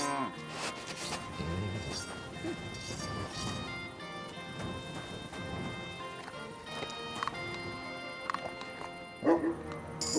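A dog barking in the video game Kingdom Come Deliverance II, with repeated barks mixed among hoofbeat-like clatter, music and ambient game sounds throughout.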